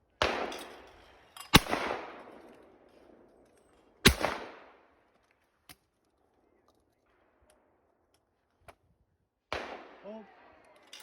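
Shotguns fire at sporting clay targets outdoors, with a few loud sharp blasts each followed by a fading echo, separated by quiet gaps and a couple of fainter distant pops, and a brief exclamation at the end.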